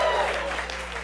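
A comedy club audience at an improv show claps in a short burst of applause. It stays fairly loud and dense, then tapers slightly, with a voice mixed into the crowd noise.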